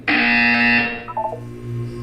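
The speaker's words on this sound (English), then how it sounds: "When you hear the buzzer, look down at the floor." Electronic buzzer tone from the video game Portal 2, sounding once: a loud, steady, harmonically rich blare lasting under a second, followed by softer short electronic blips and a low hum.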